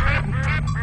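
A duck quacks loudly and close by in a short burst of a few harsh, nasal calls, heard alone during a Durga Puja stage play.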